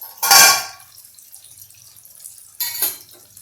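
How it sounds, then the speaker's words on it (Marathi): Boiling water poured from a vessel into a brinjal and potato curry in a pan, heard as two short splashy gushes separated by a quiet pause, close and clear. "हे पाणी मी उकळतं पाणी यात टाकते"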